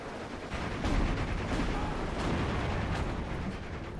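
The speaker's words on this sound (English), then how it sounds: "Nice mortar fire there." Mortar rounds thump and burst in the WWII strategy game Steel Division 2, a sustained rumbling barrage with several sharper impacts rising out of a low, continuous battle din.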